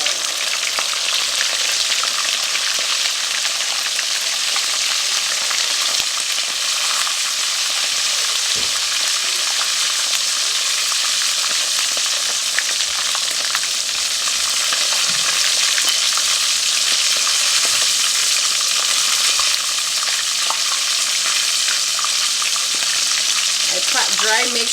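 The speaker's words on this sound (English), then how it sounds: "Then I lower down into the oil just like that." Jamaican escovitch fish frying in hot oil, a loud continuous sizzle and crackle that holds steady throughout, close up and without talking.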